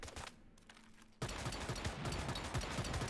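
Rapid gunfire from the JAWS gun in the shooter game Once Human, with critical hits setting off explosions: a quiet lead-in, then a loud, dense, continuous barrage of shots and blasts that runs to the end without any talking.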